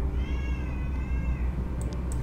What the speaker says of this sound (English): Cat's always so vocal.